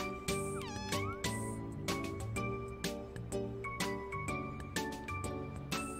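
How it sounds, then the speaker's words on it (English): A cat meows in the video game Omori, a short mewing call over a bright, steady game soundtrack of chiming melody and rhythmic beats that plays loudly throughout. "Hey, cat."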